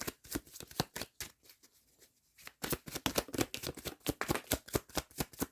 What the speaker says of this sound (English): Let me get a couple more cards out of this deck.